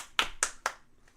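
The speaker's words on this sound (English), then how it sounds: "Why are you clapping, sir?" Hands clap three times in a steady rhythm at close range during a casual podcast, each clap sharp and bright, with a faint tail of room noise afterward.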